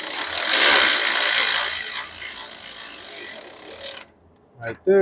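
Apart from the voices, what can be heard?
wrench tightening tie rod nut on 4Runner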